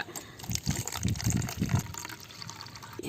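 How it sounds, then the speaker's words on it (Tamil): Water pours onto gelatin powder in a short, gushing stream with splashy bursts, fairly quiet and close, then trails off into a faint trickle. "அதில் வந்து லைட்டாக நான் தண்ணி சேர்த்துக்கிறேன்"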